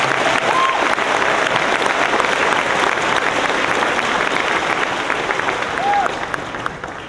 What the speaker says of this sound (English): Could we please get one more round of applause to recognize the great speeches by our sixth grade valedictorians?